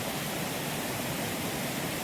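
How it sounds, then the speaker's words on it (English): Water rushing down from a swollen waterfall near a countryside cottage, a dense, constant roar filling the scene with no other sound. "all that water coming off the waterfall there."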